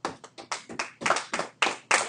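Students in an algebra classroom clap their hands in a loose series of about nine sharp, separate claps, fairly faint, with no talk.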